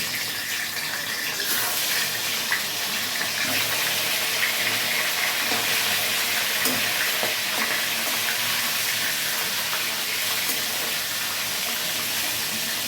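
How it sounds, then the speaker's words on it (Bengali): Fish heads frying one by one in hot oil in a kadai on a gas stove: a loud, continuous hissing sizzle that barely changes for nearly thirteen seconds, with no talking. "এবার আমি মাছের মুড়োগুলো এক এক করে ভেজে নেব।"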